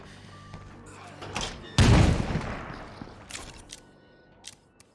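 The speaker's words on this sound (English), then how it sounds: "That sounded like an explosion for sure." A single heavy video game explosion in State of Decay 2 bursts out mid-clip and rolls off into rumbling debris, with scattered smaller thuds and clicks afterward.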